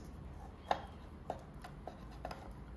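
A knife cutting through a piece of smoked bacon on a board, four faint, crisp taps spaced about half a second apart in a quiet room.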